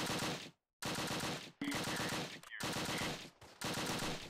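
Machine gun fire in Close Combat: The Longest Day comes as dense, loud, close bursts of rapid automatic shots, split by short silent gaps and repeated about five times, with no voices.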